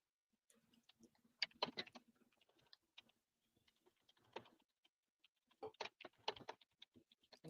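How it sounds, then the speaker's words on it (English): Quiet keyboard typing in bursts of rapid clicks, with pauses between runs, heard faintly and alone at a remote tabletop game session. "I hear typing."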